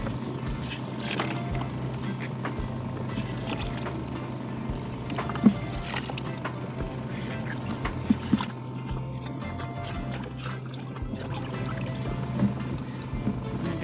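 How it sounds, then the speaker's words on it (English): Wrung laundry water splashes and dribbles into a bucket on a boat amid scattered clunks and handling noises, fairly close. "I wring the water back into the bucket."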